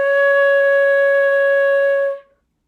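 A flute sounded by blowing across the embouchure hole holds one steady, clear, loud tone for about two seconds before stopping abruptly.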